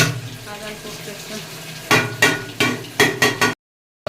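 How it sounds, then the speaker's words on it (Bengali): Vegetables, including chopped bottle gourd, are stir-fried bhuna-style in a pan. A soft sizzle sits under a run of sharp, close scraping and stirring strokes that stop abruptly into silence. "অবশেষে এই যে এখানে সবজি দিয়ে রান্না করলাম, ভুনা করে নিয়ে"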